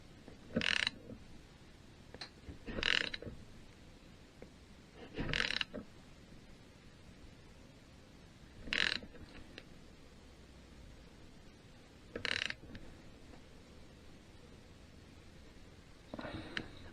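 A ratchet wrench with a deep socket works on a BSA Bantam D3 motorcycle engine during a rebuild, giving six short bursts of clicking spaced a few seconds apart over a faint background hiss.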